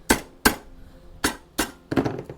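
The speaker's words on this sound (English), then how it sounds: "hit it with a hammer." A hammer strikes a golf club part in a workshop during club building: five sharp metallic blows, the first two close together, then two more, and a final cluster of quicker taps, loud and close with no talk.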